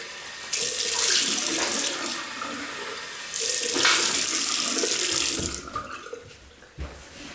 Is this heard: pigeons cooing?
no